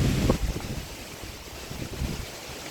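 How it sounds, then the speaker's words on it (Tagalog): Strong typhoon-like wind roars and buffets the microphone in a continuous rumbling gust, loud and close, with no other sounds standing out. "ang lakas ng hangin oh. Parang may bagyo."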